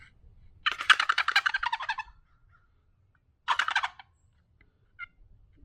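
A custom wooden box call is worked to imitate a turkey gobble, giving a long rapid rattling series, a shorter second burst after a pause, and one faint stroke at the end.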